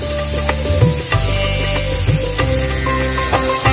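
Ginger garlic paste fries with onions on a high flame, giving a loud, steady sizzle close up, punctuated by regular scraping strokes of a spatula stirring against the pan, with no one talking.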